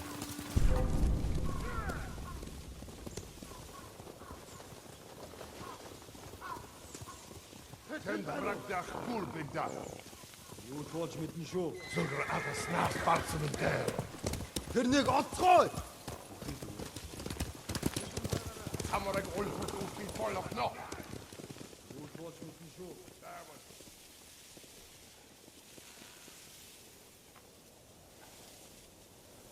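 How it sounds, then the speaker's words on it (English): Horses gallop in Ghost of Tsushima: steady clip-clop hoofbeats run through the whole stretch as riders pass, with shouted voices and rustling grass over the hooves. "Bastards scared off the horses"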